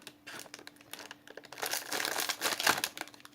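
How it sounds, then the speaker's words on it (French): A plastic packet of craft decorations being torn open and handled, giving close, soft crinkling and rustling that starts in sparse bursts and then grows busier and louder toward the end, with no talking. "je vais ouvrir le paquet suivant"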